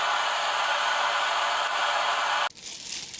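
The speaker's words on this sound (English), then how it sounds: "So then I'm going to sit under the dryer for about 30 to 45 minutes." A salon hood hair dryer blows with a steady, loud airy roar during a hair-lightening process, then suddenly cuts off near the end, leaving faint noise.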